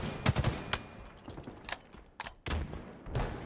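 Video game gunfire with grenades, heard as rapid irregular bursts of shots and a few heavier blasts, fairly close and dense over a few seconds.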